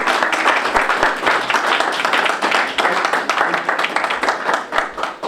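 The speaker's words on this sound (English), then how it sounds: "If we can get a round of applause for these 2 young men." Loud, close applause from a school gathering celebrating two young athletes on signing day, lively overlapping hand claps sustained for about five seconds.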